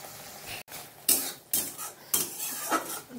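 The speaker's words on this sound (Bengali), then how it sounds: "মশলাটা ভালো করে ভাজা হয়ে গেছিলো, তো এর মধ্যে হলুদ, জিরে গুঁড়ো আর লবণ আমি দিয়ে দিয়েছি। মশলাটা কষানো চলছে।" Spice masala of turmeric, cumin powder and salt being stir-fried in a pan, with scraping strokes of a spatula and metallic clinks over a soft, intermittent sizzle.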